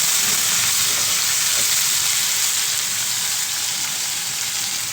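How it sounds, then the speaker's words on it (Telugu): Curry leaf sprigs and coriander frying in hot oil in a pan for kakarakaya pulusu, a loud steady hissing sizzle close up with no pauses and no talking. "కరివేపాకు రెమ్మలు, కొత్తిమీర వేసుకొని ఇలా కొద్దిగా వేగినాక"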